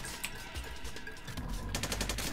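Gunfire in the video game Splinter Cell: Conviction, a continuous rattle of rapid shots growing denser toward the end, moderately quiet, with no talking.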